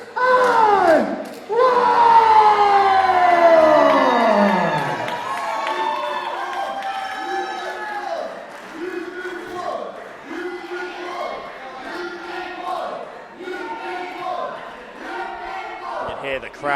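A crowd roars and shouts for wrestler Arron Warnes as he walks to the mat at an SOS Championship wrestling show, loud at first and then settling into a steady, pulsing noise with chanting-like swells.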